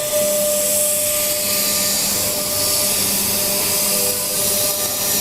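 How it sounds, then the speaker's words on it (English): A milling machine spindle spins up before machining a brake cooling fan impeller, giving a steady, loud whine with sustained tonal lines and broadband hiss throughout, with no talk. "The spindle spins up for 6 seconds,"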